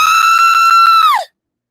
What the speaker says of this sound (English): I pushed the scream button